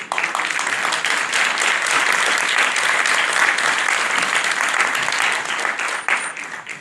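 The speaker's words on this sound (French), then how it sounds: "On applaudit tous." A crowd at a France Insoumise municipal campaign launch meeting in Livry-Gargan claps loudly and continuously for several seconds, then the applause fades slightly at the end.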